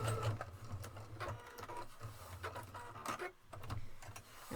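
A PFAFF creative 1.5 sewing machine stitches a seam in a steady, fast mechanical whir with rhythmic needle ticking. It runs close and alone, easing briefly before speeding up again.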